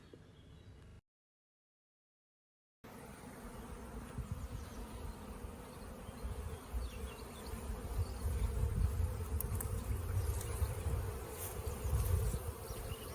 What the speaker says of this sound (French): Au rucher, de plus en plus d'abeilles dans les ruches et une activité croissante